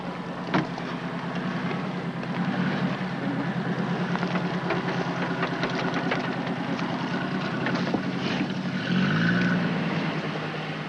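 A Jeep's 4.3 litre six-cylinder engine with automatic transmission and constant four-wheel drive runs steadily while driving off-road, a continuous mid-loud drone with minor surges and no voices.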